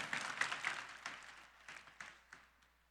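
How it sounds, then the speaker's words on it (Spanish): A small audience claps for three volunteers with a short burst of fairly faint applause that thins into a few scattered, decaying claps. "Un aplauso para nuestros 3 voluntarios"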